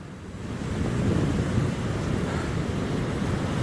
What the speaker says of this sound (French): il y a deux belles vagues qui vont arriver là-bas